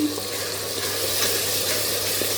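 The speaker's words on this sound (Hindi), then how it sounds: "हल्का सा भूनेंगे, इसको भूनने की ज़्यादा ज़रूरत नहीं है" Turmeric, chili, coriander powder, garam masala and salt frying in a pan for chana masala: a steady close sizzle with faint stirring scrapes, continuous and without talk.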